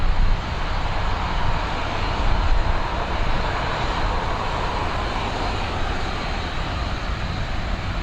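An airliner climbs away after takeoff at Dublin Airport, its engines giving a dense, even roar that stays loud and steady throughout with no talk over it.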